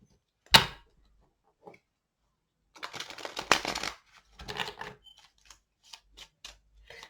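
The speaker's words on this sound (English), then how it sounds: "Give me one more shuffle." A deck of slippery playing cards is shuffled close by: a sharp snap, then a longer riffling burst and a few scattered flicks and taps as the cards settle.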